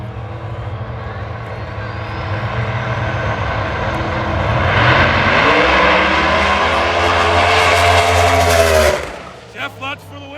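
A drag racing car at Dragway 42 building turbo boost, a loud sustained engine roar that rises in pitch and intensity before cutting off abruptly, with brief sputters after.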